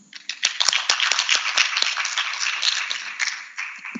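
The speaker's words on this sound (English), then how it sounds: "Let's clap for all of us." An audience claps together at the close of the fourth annual Kenya School of Law conference, a lively burst of many hands that swells quickly, holds, then thins out near the end.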